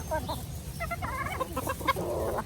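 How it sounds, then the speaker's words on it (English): Chickens clucking close by in a short burst of rapid, overlapping calls, with a lavender rooster's throaty clucks standing out; no talking. "You can tell that he's a rooster."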